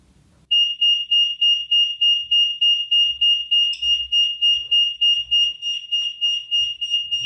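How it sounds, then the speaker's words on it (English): A Chilicon Power CP-100 home security system's alarm sounds a loud, piercing, rapidly pulsing electronic tone that starts abruptly after a moment of quiet and repeats steadily, with faint background knocks. "The alarm starts to sound."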